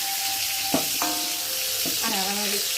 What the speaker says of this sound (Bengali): নিয়ে পটলটাকে ভালো করে ভেজে দেবো